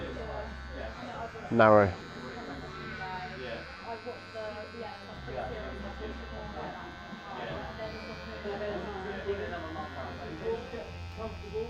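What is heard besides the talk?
electric clippers blade trimming a hairline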